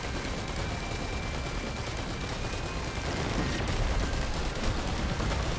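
Steady, dense game gunfire in Risk of Rain 2 as enemies are shot, a continuous crackling barrage of rapid shots with little pause, fairly loud and filling the whole stretch without talk.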